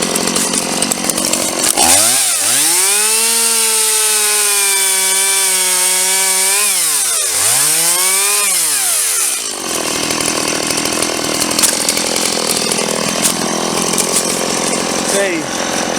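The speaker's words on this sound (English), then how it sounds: "this is one of the cheapest chainsaws that Stihl sells" A cheap Stihl chainsaw whines at high revs as it bogs into a thick branch, pitch dipping under load, then cuts out briefly before a rough, noisy continuation.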